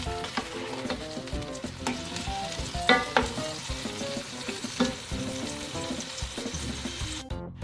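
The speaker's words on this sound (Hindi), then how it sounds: "मसाले को अच्छी तरह भूनना है।" Spiced masala roasting and being stirred in a pan for Sindhi biryani, with a steady loud sizzle and frequent scraping strokes and clinks throughout, no talking.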